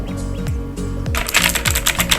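Rapid clacky typing on a Philips gaming keyboard, a burst of close, crisp keystrokes following a few slower taps.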